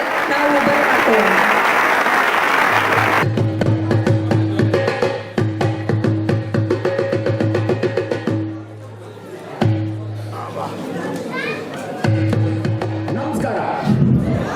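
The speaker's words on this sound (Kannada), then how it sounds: "ಇವರನ್ನ ದೊಡ್ಡ ಚಪ್ಪಾಳೆಯೊಂದಿಗೆ ನಾವು ಬರಮಾಡ್ಕೊಳ್ಳೋಣ" An audience gives loud, dense applause to welcome the BeLaku Chitra Nataka theatre troupe at HKM Utsava 2025. The clapping lasts about three seconds before voices and tonal sounds take over.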